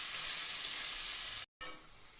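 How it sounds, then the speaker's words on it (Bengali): Cashew, mustard seed, poppy seed, ginger and green chili paste hitting hot oil for a Bengali mustard pomfret fish curry, a steady close bright sizzle that cuts out briefly, then resumes a little softer. "রাখা কাজু বাদাম, সর্ষে, পোস্ত, আদা বাটা ও কাঁচা লঙ্কা বাটা একসাথে আমরা তেলে দিয়ে দিলাম।"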